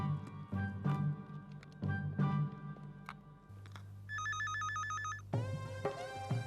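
A telephone rings in a few bursts, with an electronic ringtone melody near the end, heard close and indoors with no speech.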